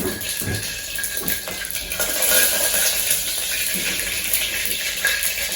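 Hot oil crackles and sputters steadily as mustard seeds pop, a dense, bright frying hiss that runs throughout, loud and close.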